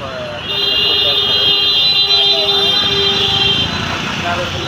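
Car horns blare at a busy Hyderabad traffic signal, long steady overlapping honks sounding loud and close over a constant roar of road traffic, with voices nearby.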